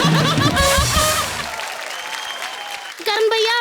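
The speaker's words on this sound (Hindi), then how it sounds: "तालियां।" A studio audience at a comedy show claps and laughs loudly after a punchline, the applause fading out midway. A voice speaks over the start, and another briefly cuts in near the end.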